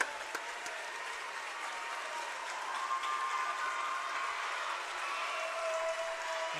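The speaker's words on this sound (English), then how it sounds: "As they get a standing O from the home crowd" Home crowd in a gym giving a standing ovation at a high school girls' basketball game after a player's 1,000th career point, a sustained wash of clapping and cheering that holds steady and builds slightly throughout.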